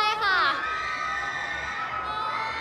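Crowd of fans cheering and whooping at a fashion show at an anime expo, a loud sustained wash of high-pitched shouting that swells at the start and holds steady throughout.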